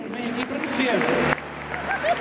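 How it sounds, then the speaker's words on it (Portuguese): Audience applause at a concert: dense, steady clapping from a crowd that keeps going for the whole stretch, mixed with voices and hall noise. "Uma salva de palmas para este nosso amigo."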